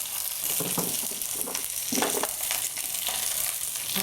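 Cabbage and other brassicas tossed by hand in a bowl for roasting with red curry sauce give a close, steady rustling and crunching of leaves, with brief louder bursts.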